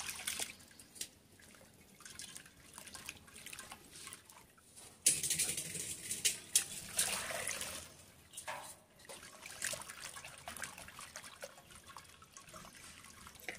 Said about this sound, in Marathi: अशा प्रकारे आपल्याला हे पाणी म्हणजेच हा चीक गाळून घ्यायचा आहे कापडाने